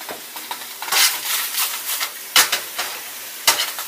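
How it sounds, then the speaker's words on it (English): Damp spinach sizzles in a very hot pan, a loud, crackling hiss with repeated sharp bursts as it is stirred and tossed. "There's just a little bit of moisture on this spinach, is what you're hearing and what you're seeing."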